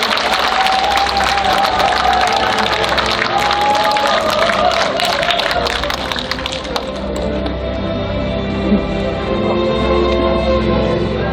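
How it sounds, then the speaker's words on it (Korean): A large crowd claps steadily and loudly, dense applause with a few cheers mixed in, easing slightly toward the end while continuing throughout, welcoming a district mayor onstage at a community event for elderly care workers. "뜨거운 박수로 환영해 주십시오"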